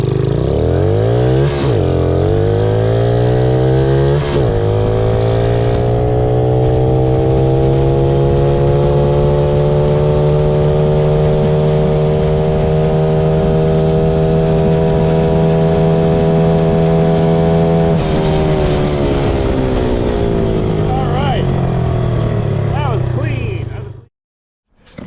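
A mini bike with a big bore kit accelerating hard, its engine rising through the gears in a loud, close, buzzy whine that holds high and then cuts off abruptly near the end.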